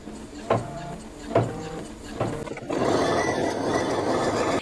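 An embroidery machine stitching a small spider design, with a few sharp mechanical thumps followed by a steady, close whirring drone of rapid stitching.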